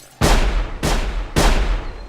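Gunfire rings out in the video game Sir, You Are Being Hunted: three sharp, loud shots spaced roughly half a second apart, each with a decaying echoing tail.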